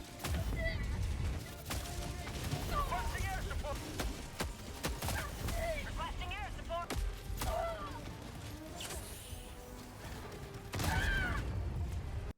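An AC-8 autocannon fires in a video game, sharp thudding shots at irregular intervals with mechanical clatter, heard under someone talking.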